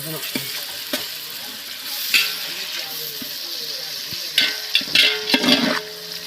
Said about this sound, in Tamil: நல்லா வதக்கணும் நல்லா வதக்கணும்